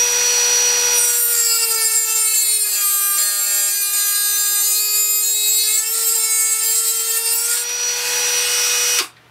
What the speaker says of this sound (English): I'm going to fire up the Dremel and see if I can get this arranged so that you can see what I'm doing.